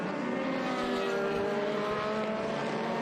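Open-wheel formula race cars passing at WeatherTech Raceway Laguna Seca during an SVRA and Trans Am weekend, a continuous tonal engine drone from several cars blending together, moderately distant and steady, with no talk over it.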